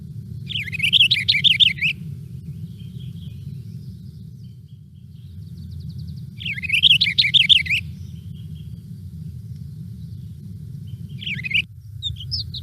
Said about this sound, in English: Here's the purple finch sound.